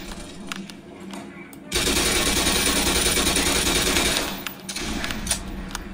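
A sustained burst of rapid automatic gunfire in the Black Mesa shooter, loud and continuous for a couple of seconds, followed by scattered quieter shots and noise.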